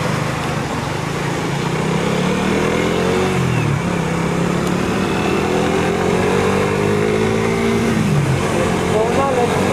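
A motorcycle engine drones steadily on a long ride, with its pitch sliding up and down as it shifts and accelerates, constant wind and road noise around it, and voices talking over it.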